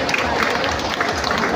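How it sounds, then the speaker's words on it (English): Crowd applause for a city councilor at a civic assembly, a steady dense wash of clapping through the whole moment, loud and close. "Let's give a round of applause to Councilor Marilla."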